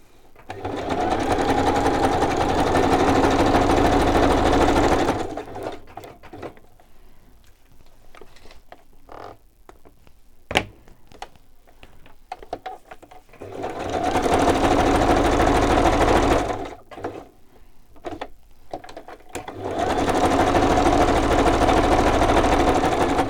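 A sewing machine stitches through journal pages in three loud, steady runs of rapid mechanical whirring. Quieter stretches of clicking and handling fall between the runs.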